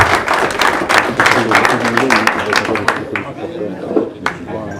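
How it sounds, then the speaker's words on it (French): An audience at an amateur football club's official team presentation applauds a midfielder, a burst of dense clapping that thins out and fades, with a voice talking over it. "On peut donc applaudir Dylan qui va évoluer en milieu de terrain."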